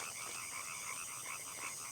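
Frogs croak in a steady, rhythmic chorus, with repeated pulsing calls over a constant buzzing insect-like hum at night, faint and distant.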